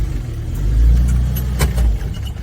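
A Suzuki Samurai engine idling close by, a deep low rumble that swells slightly as the throttle is touched, with a few light clicks on top.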